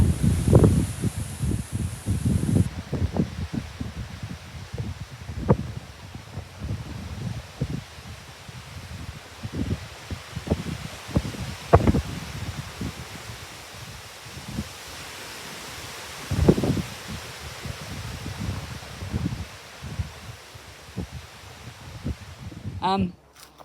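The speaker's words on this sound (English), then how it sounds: "I'll put in the video of the wind" Wind blowing through cut-flower garden plants, leaves rustling in gusty bursts with buffeting wind noise on the microphone, continuous for over twenty seconds with no talk.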